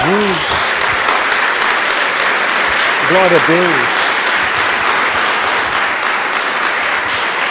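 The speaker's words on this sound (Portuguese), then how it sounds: "Dê uma salva de palmas a Jesus." A church congregation applauds in a loud, continuous wash of clapping that fills the whole stretch, while a voice calls out briefly over it.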